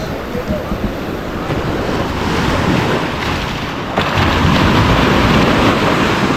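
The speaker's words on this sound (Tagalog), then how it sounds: "Dahil sa sobrang lakas ng alon." Strong ocean waves surge and crash continuously, loud and close, mixed with heavy wind buffeting the microphone.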